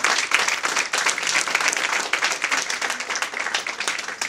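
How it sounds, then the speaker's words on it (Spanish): Loud, dense applause from a church congregation, with many hands clapping quickly and evenly and close by, an unbroken roar of claps with no voices over it. "un aplauso fuerte al Señor"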